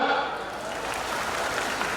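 A brief burst of dense, continuous applause from an audience at an annual day celebration, filling the short stretch evenly.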